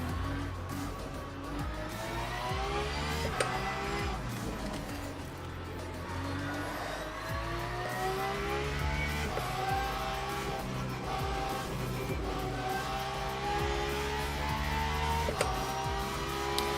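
GT3 race cars lap Interlagos in Le Mans Ultimate with layered engine whine that rises and falls through the gears, while other cars pass and occasional clicks and tire scrubs sound over a constant rumble.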